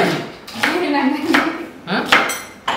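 Onions chopped with a knife on a cutting board, a string of loud, close, evenly spaced thuds with a brief scrape between strokes, alone without talk.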